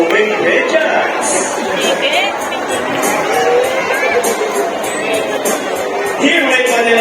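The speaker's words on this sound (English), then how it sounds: "A round of applause for our raptor, our chicken, and our homing pigeons." Crowd at a Manila Ocean Park bird show featuring a raptor, a chicken and homing pigeons cheers and shouts steadily, with children's voices and whoops rising over dense, loud audience noise throughout.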